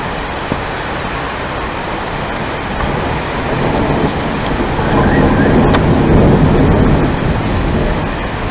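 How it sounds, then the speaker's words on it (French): Heavy rain pounds down in a thunderstorm near Aurillac in August, a loud continuous roar that swells midway as low rumbling thunder builds beneath it. "c'est le déluge, il y a un bel orage, il y a le tonnerre et tout."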